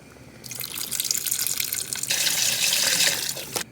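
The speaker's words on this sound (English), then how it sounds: "I'm going to go ahead and add in the beef broth." Beef broth pours steadily into a soup pot, a continuous splashing liquid rush that grows fuller and louder partway through before tapering off, with no talking.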